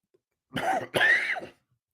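Two quick, harsh coughs close to the microphone, one right after the other, then quiet.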